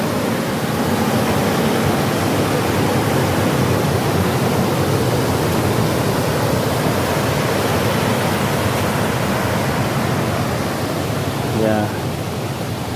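A river in Kenya rushes steadily over its bed, a dense and unbroken roar of water that stays loud and close from start to finish.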